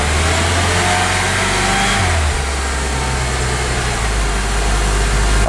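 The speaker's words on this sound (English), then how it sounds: "I'm just going to rev it a few times." Engine of a 2006 Acura TSX with a check engine light on, revved in a few sustained rises over a steady low idle, loud and close with no talking.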